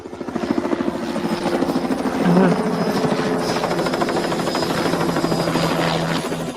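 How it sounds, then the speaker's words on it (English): A television news helicopter flying overhead, its steady rotor thump and engine drone continuous and fairly loud throughout, with faint voices underneath. "Supposed to be the Channel 7 chopper, isn't it?"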